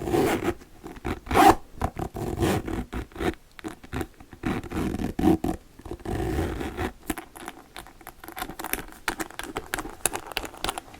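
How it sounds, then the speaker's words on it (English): A zipper is slowly opened and closed on brown boots with thick heels, making close, crisp zipping strokes in several bursts with pauses between them and no talking. "I don't know if it's going to be a harsh zipping sound."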